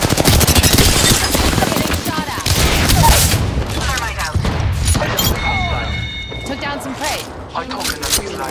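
Rapid automatic gunfire rattles loudly and close in the shooter game Apex Legends. Bursts and booms mix with game sounds, and a voice talks over them.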